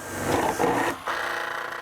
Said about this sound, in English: drill starter holes